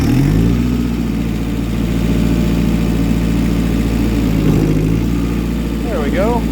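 A tractor engine running at a steady idle on a building site, a loud continuous low rumble close by with a brief dip and a faint whine near the end.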